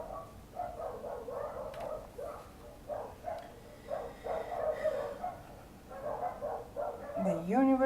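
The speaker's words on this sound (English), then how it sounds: "That's my dogs." Several dogs bark repeatedly in a rhythmic run of yaps, somewhat distant and moderately loud, while a person talks over them.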